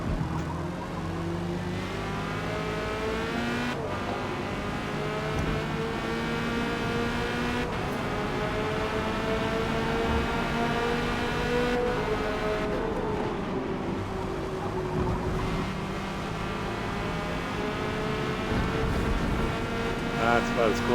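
A Corvette C8.R race car's engine drones steadily at Silverstone under hard throttle, pitch rising and shifting across long pulls, with someone talking over the continuous in-car roar.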